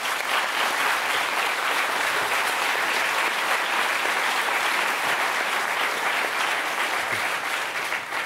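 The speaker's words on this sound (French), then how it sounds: "On applaudit la famille, alors." A studio audience on a French Sunday TV show bursts into sustained, dense applause, a steady wash of clapping hands that holds evenly throughout without talk.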